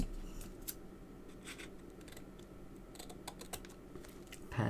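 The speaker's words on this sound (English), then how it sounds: "Let me just give that a quick trim off." Scissors snip away excess glued paper from a handmade card, faint close cutting and rustling in short quick strokes over quiet room noise, no talking.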